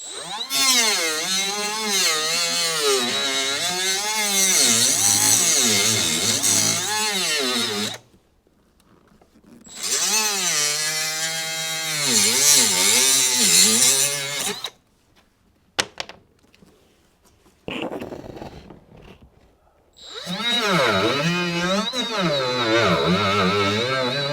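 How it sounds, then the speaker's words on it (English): Rotary power tool cutting a plastic seat handle off the steel front seat rail of a classic Mercedes, in three long loud whining bursts with wavering pitch, separated by quiet pauses with a few clunks. "I'm going to go ahead and cut the upper part off, and then I'll come in and do some slicing on the sides"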